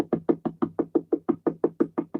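A rapid series of about fourteen sharp knocks on a door late at night, evenly spaced and close, with nothing else heard.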